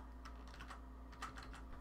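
Keys clatter on a computer keyboard in a quick, uneven run of soft clicks, close and fairly quiet over a steady background hum, with no voices.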